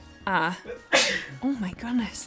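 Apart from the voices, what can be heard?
sneeze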